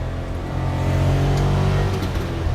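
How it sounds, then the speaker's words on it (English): A Suzuki Carry 660 kei truck accelerating at full throttle gives a steady, strained engine drone with a low buzzing hum that holds close and continuous. "Coming off of this light here, we're gonna be going flat out so you guys can see how slow it is."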